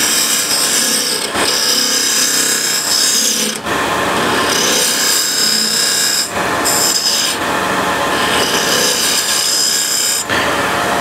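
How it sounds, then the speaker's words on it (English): An asymmetric curved scraper works the bottom of a turned wooden box on a lathe, producing a loud, continuous rasping scrape with a few brief breaks as the tool lifts off the spinning wood, close up. "now I have to do uh, something with the bottom here. So I have a um, asymmetric curved scraper"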